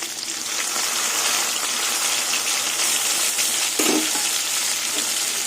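Shrimp and onion tossed into a hot pan with nigella seeds, a loud, steady hiss of frying with a brief clatter of stirring partway through, close up.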